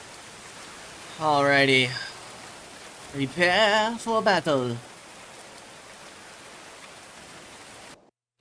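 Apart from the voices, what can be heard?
rain falling in the video game Going Medieval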